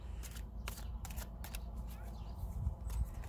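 Tarot cards are riffled and shuffled in quick, crisp bursts close by, with a low rumble underneath.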